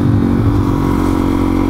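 Suzuki DRZ400SM 400cc single-cylinder motorcycle engine running hard at around 100 mph, a loud, steady droning roar with wind rush, no voices.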